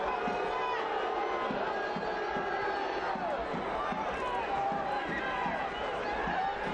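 Soccer crowd at Cardinale Stadium during a Monterey Bay FC versus Sacramento Republic FC match, a steady roar of chanting and shouting with rhythmic drum-like thumps, while a commentator speaks over it.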